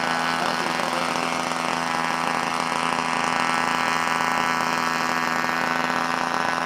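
Eflite 80mm electric ducted fan F/A-18D model jet running loud and steady near the landing runway, a continuous whining roar with strong tonal bands that holds throughout.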